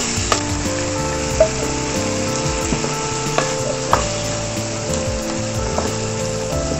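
Chicken and mashed tomatoes sizzling in hot oil in a kadai, a steady frying hiss with a few brief clanks of a spoon against the pan.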